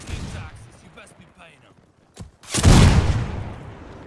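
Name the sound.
gunfire from a video game (Phantom Forces)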